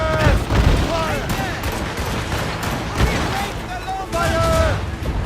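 Ship cannon volleys in Assassin's Creed Rogue, a dense, loud barrage of booming shots and crackling impacts in naval battle, with shouted voices over the din.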